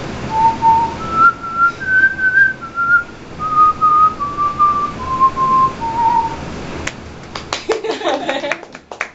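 Someone whistles a simple, slow melody of clear sustained notes up close, then scattered clapping and taps follow at the end.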